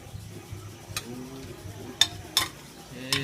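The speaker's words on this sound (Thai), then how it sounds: "ขั้นตอนแรกคือลวนหมูก่อนครับ เอาหมูต้มในน้ำเดือด" Pork being stir-cooked in a pot, giving soft scraping stir sounds and a low simmering sizzle, with a few sharp clinks of a utensil against the pot spaced through the stretch.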